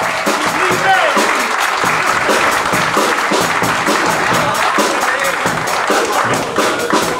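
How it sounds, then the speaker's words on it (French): Concert audience applauding musicians at an evening show, dense steady clapping from a large crowd, loud and continuous for several seconds with no talk over it. "Je demande d'applaudir"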